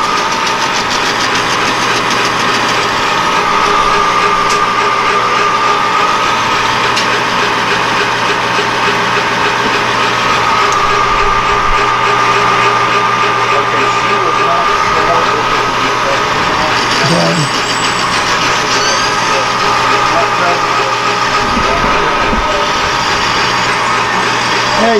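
A metal lathe facing an 8620 steel part, a steady loud machine hum and whine with a constant drone throughout, while a person talks over it.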